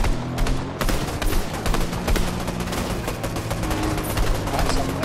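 Rapid bursts of automatic gunfire from a Fortnite match crackle densely and loudly, shots overlapping into near-continuous volleys with brief gaps, heard alone without talking.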